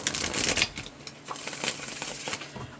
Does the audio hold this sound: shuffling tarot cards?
yes